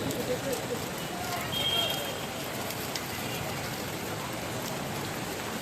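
Steady rain patters down continuously, a dense even hiss of drops on surfaces with no breaks.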